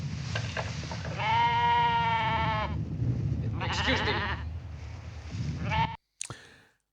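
Sheep bleating in a scene from the 1959 film Journey to the Center of the Earth, several loud, wavering bleats over a low background hum, with someone briefly speaking between them.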